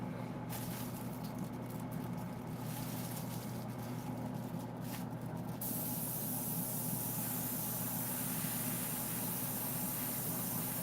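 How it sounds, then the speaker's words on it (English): Compressed air hisses steadily and close over a painted Sideshow Darkseid maquette, a continuous broadband blast that brightens and strengthens partway through over a low background hum. "Just going around with the air to help push the ink into the little crevices. Just some compressed air."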